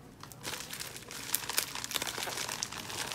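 A delivered parcel's packaging is opened, with crinkling and rustling that comes in quick bursts and small crackles. The handling sounds close by and grows busier partway through.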